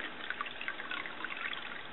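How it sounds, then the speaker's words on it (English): Colloidal silver solution pours through a paper coffee filter in a soft, continuous trickle with small bubbling splashes, faint and close. "You just pour your silver solution right on through that paper coffee filter."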